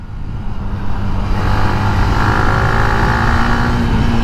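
A Sniper150 motorcycle fitted with a racing ECU accelerates hard, its engine note rising in pitch as it revs up, loud and close, with steady roar and wind noise underneath.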